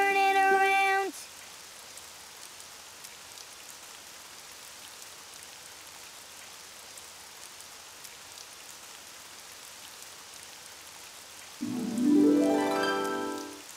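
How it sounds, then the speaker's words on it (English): Steady cartoon rain patters outdoors in a soft, even hiss that fills the whole stretch, bracketed by brief musical tones at the start and a rising sweep near the end. "Oh, it's raining outside."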